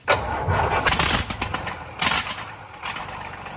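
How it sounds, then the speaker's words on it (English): A wooden boat's large engine cranks and catches with a loud, rough rumble, surging twice as it starts inside the engine room; no talking. "We're getting the engine ready for testing here inside the engine room."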